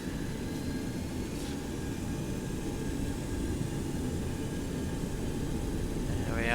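Simulated Boeing 727 jet engines in X-Plane 11 spool up toward takeoff thrust, a steady broadband roar with a faint whine that builds slightly toward the end, heard continuously without speech.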